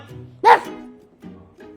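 A dog gives one sharp, close bark, followed by softer whiny vocal sounds.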